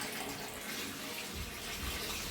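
Water running steadily from a tap in a Jamaican kitchen while cooking, a loud, even hiss and gush that deepens partway through as the flow fills a container.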